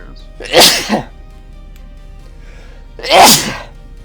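Two sharp sneezes, one near the start and another about three seconds later, with quiet room noise between them.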